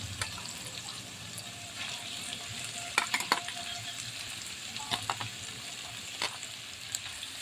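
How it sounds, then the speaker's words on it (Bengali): Potato, carrot and bean pieces frying in hot oil, a moderate crackling sizzle broken by several clattering stirs and knocks against the pan, close and without speech. "আমি সব সবজিগুলো একসাথে ভেজে নিচ্ছি"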